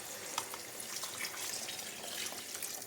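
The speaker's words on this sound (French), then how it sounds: "Je vais rajouter de l'eau." Water pours and splashes into a pot of simmering sweet potato and ginger soup, a steady close trickle and gush lasting a few seconds with no voices.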